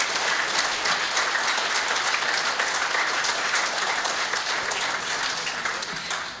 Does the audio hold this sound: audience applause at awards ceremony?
yes